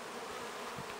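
Honeybees hum steadily in front of a hive entrance as foragers return laden with pollen, a dense, continuous low buzz of many insects close by with no one talking.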